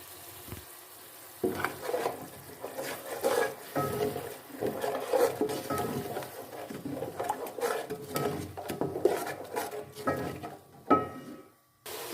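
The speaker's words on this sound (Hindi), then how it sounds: "हाफ बाउल हमने दही ले लिया, वो इसमें हम डाल देंगे और इसको हम अच्छे से मिक्स कर लेते हैं।" Yogurt being stirred into spiced goat trotters in a pot for paya, heard as wet scraping and clinking of a spoon against the pot with a soft sizzle underneath, in uneven strokes, close by and with no speech.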